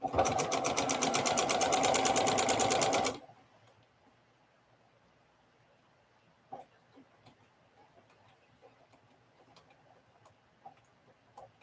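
A sewing machine stitches a pinwheel quilt block up to the pins, its needle chattering in a loud, fast, steady run for about three seconds before stopping, leaving only faint scattered ticks and clicks.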